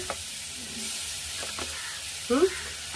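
A soft, steady frying hiss of butter in a hot wok for pav bhaji, with occasional scraping clicks and a brief louder clatter near the end.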